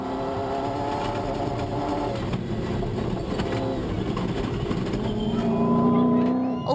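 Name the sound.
BMW race car engine in the Toyota 1000 Desert Race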